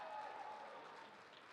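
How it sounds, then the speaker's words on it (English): An audience at a live event claps steadily for a brief moment, a dense, even wash of applause with a faint crowd murmur. "can I get one more round of applause for all three of those?"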